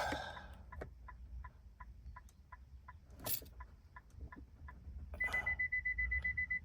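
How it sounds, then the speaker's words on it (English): A 2017 Infiniti Q50's buzzer confirming key programming is complete: a rapid, even run of about a dozen short electronic beeps, followed by a longer sustained tone, close and clear. "this 5 beep right there is supposed to tell you that the programming is complete because of this buzzer"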